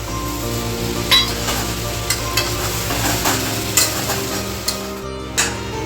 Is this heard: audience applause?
no